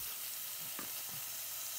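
Minced onion fries in butter in a pot, making a steady, even hiss with a couple of soft stirring sounds, close and moderate in level, and no talk.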